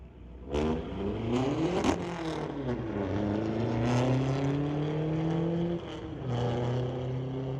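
Drag racing cars accelerating hard at Mission Raceway Park, engines revving up through gears in loud rising sweeps with a brief gear-change dip, heard alone with no talk.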